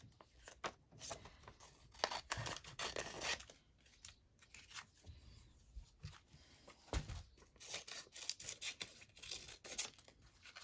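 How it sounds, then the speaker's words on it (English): Scissors snip through paper to cut out a butterfly shape for a collage journal page, giving repeated crisp close cuts and rustles in uneven bursts, quiet but clear with no talking. "I'm just going to cut that butterfly out there."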